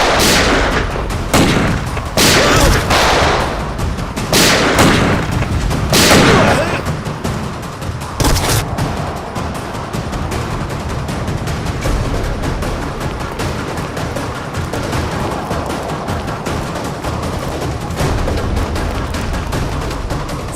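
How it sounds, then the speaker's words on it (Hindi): Several loud, sharp gunshots crack close by in the first eight seconds, followed by a sustained rumbling din with scattered distant shots. "तो गोलियां चल रही हैं।"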